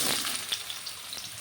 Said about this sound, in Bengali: সয়াবিনটা আমি 3-4 মিনিট ধরে ভেজে নেব।